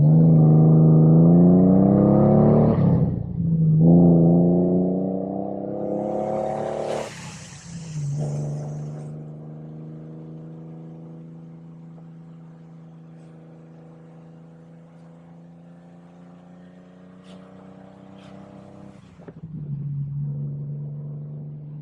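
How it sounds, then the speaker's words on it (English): A 1976 Triumph TR6 engine revs up strongly, drops briefly during a gear change, then pulls steadily at a lower drone before surging again near the end. "You get to listen to this engine"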